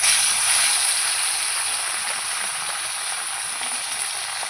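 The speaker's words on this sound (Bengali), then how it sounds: "এবার আমি মাছগুলো ভেজে নেব এক এক করে" Pomfret fish frying in hot oil in a kadai, a steady loud bright sizzle that holds continuously throughout without pause.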